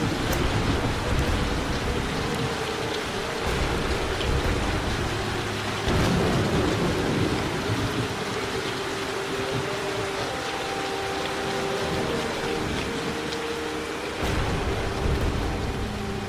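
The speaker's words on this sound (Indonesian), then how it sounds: "Ketika sambaran petir menggelegar" Steady heavy rain pours throughout, with deep rolling rumbles of thunder swelling in the background; no voices, just a continuous dense storm wash.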